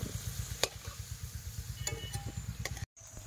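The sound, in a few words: onions and potatoes frying in a wok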